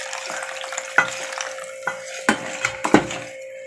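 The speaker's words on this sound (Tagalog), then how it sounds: "then mix, combine all ingredients" Batter of flour, sugar and coconut milk for steamed sticky cake being mixed in a bowl, with scraping strokes and several sharp clinks of a utensil against the bowl, close up and alone.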